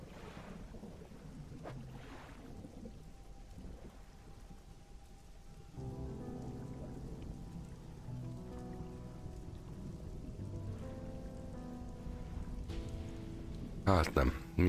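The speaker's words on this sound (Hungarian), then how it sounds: "Esik az eső is." Steady rain falls in the fishing game Dredge, a continuous soft patter with occasional low rumbles, thickening partway through as more layered game sounds join, with a brief sharp burst near the end.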